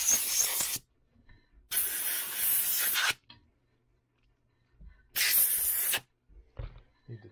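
Compressed air from a workshop compressor running low, blown through a nozzle: three sharp hissing bursts, the middle one longest, separated by near silence.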